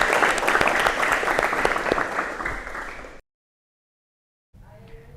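A crowd applauds a student vocational school team after their presentation, steady dense clapping for about three seconds before it cuts off, then a short stretch of quieter room sound.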